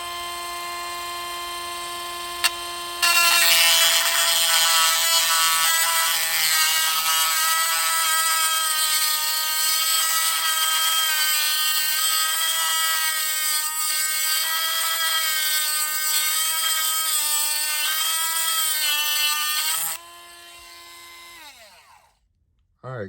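A rotary tool spinning at 25,000 RPM while polishing a Spyderco Yojimbo 2 knife blade, a piercing steady high whine that starts abruptly, holds loud for about seventeen seconds, then winds down and fades.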